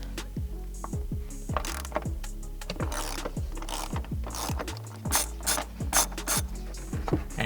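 A ratchet wrench clicks in quick, repeated bursts while backing out shock tower bolts on a Tesla Model 3/Y, close and fairly quiet, with a soft metallic clunk midway.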